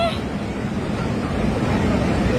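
The Bhotekoshi river in sudden severe flood, a continuous loud roaring rush of churning water with wind buffeting the microphone, steady and close throughout.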